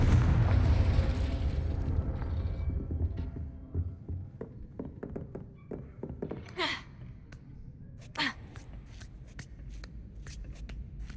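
Confringo fire-blast spell in Hogwarts Legacy: a loud, booming burst at the start that rumbles and fades over a few seconds, followed by scattered sharp crackles and clicks.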